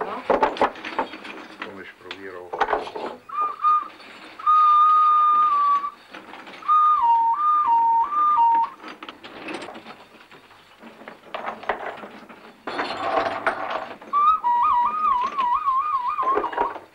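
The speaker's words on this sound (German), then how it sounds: "Beim Ausräumen prüft man, ob die Kuckucke gut klingen." Fired clay cuckoo whistles being tested while a pipe kiln is unloaded: several clear two-note and warbling toots, fairly close, interspersed with clattering of the pieces and people talking.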